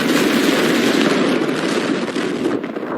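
A second massive explosion, strong enough to feel like an earthquake, produces a loud, sustained roaring rumble that holds throughout and eases slightly toward the end, with no voices.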